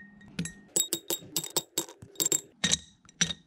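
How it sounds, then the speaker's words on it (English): Small ice cubes dropped one after another into a glass, giving a string of about a dozen sharp, close clinks at an uneven rhythm, with no talking. "So now we're gonna put as many ice cubes as you want in this."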